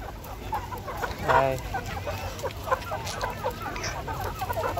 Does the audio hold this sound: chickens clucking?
yes